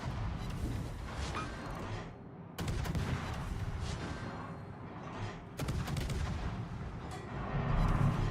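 Naval guns fire from behind a smokescreen in the World of Warships game: sharp booming salvos punch in at intervals over a continuous rumbling battle background, with no talking.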